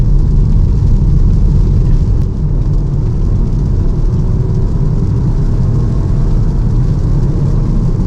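The BMW 118i's 1.5-litre three-cylinder engine pulls steadily under acceleration, a loud, continuous low drone and hum heard from inside the cabin, with no speech over it.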